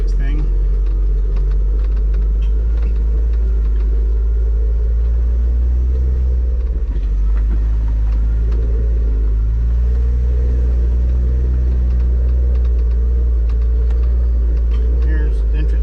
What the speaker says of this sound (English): Second gear, just coming down these little inclines, letting the engine braking do its thing.